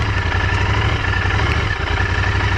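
A Royal Enfield GT 650 cafe racer's parallel-twin engine drones steadily while being ridden, a loud, close, even low rumble with a continuous pulsing throb.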